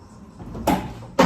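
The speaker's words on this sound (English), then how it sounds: "that door drops, doesn't want to open." Two short bursts of a heavy door being worked on an old 1966 Mercedes Universal with a sagging door, the second sharper and louder, with quiet background before each.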